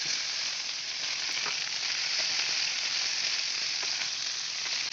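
Crushed garlic fries in hot oil in a pan, a close, steady crackling sizzle that holds evenly throughout.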